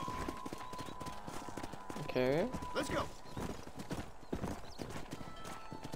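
Horse hooves clip-clopping in Red Dead Redemption on PS4, a steady rhythmic trot with a neigh partway through, under spoken character dialogue.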